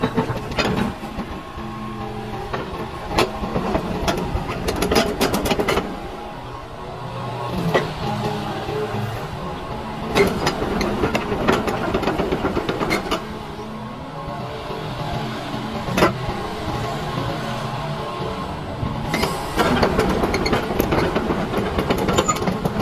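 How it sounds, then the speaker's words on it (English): A Hitachi EX120-5 excavator works nearby with rumbling engine noise, clanking tracks and repeated metallic knocks and rattles in uneven bursts throughout. "here's the Hitachi EX120-5 excavator working performance"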